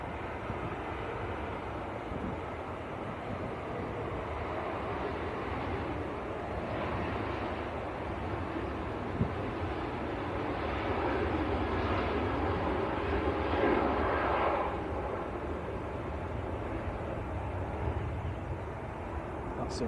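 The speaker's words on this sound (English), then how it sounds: "That seemed like a very D-rated takeoff, didn't it? Very slow and steady." A Jet2 Boeing 737-800 takes off at Manchester Airport, a steady distant engine roar lasting the whole stretch and swelling slightly midway, with faint talk nearby.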